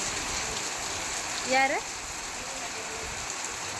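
Steady rain falls in a continuous, even hiss that stays soft and close throughout, while a voice briefly speaks over it midway.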